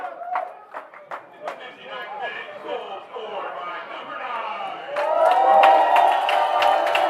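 A stadium crowd at Interbay Stadium cheers during a Ballard FC soccer match, a steady roar under commentary that swells louder toward the end.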